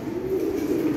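Pigeons at a breeder's loft coo in a steady, low murmuring drone that fills the short moment at close range, with no talking over it.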